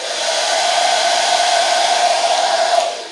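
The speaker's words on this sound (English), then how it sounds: "With the hair dryer" A hair dryer runs steadily close by, aimed at a Braun Lectron sound level meter kit as a noise test. It gives a loud, continuous airy whoosh with a constant motor whine and no pauses.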